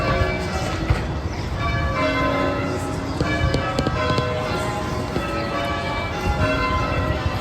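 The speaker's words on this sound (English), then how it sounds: "here you can hear the same bells that would have rang during that time" Historic church bells in Boston ring steadily and loudly, overlapping tolls layering into a continuous resonant peal with a faint wash of outdoor background.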